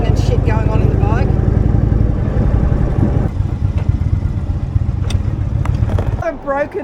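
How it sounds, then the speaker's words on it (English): A motorcycle on the road rattles and clatters while it rides, a steady rough engine drone under a rider's ongoing talk, easing off near the end. "I can hear all the rattling and shit going on in the bike."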